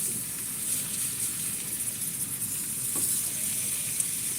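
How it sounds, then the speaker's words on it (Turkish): Cheese-stuffed peppers fry in a pan with a steady, close, bright sizzle that holds evenly throughout, with a faint tap partway through. "Ve peynirler kızardı"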